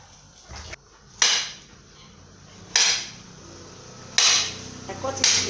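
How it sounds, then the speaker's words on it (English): A knife chops a plantain into medium pieces on a hard surface, giving four sharp, separate knocks spaced a second or more apart, close and clear against a quiet kitchen background. "This is how you are going to cut the plantain."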